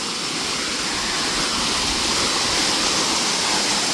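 Steady, dense roar of a waterfall in Mizoram, loud and close, a constant rushing wash of water with no breaks.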